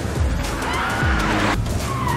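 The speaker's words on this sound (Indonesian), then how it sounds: "Marshall meminta Demetrius agar menambah kecepatannya, lalu terjadilah aksi kejar-kejaran" Tires skid and a car engine roars during a chase in an action film, a short loud burst of squealing and rushing noise with no talk.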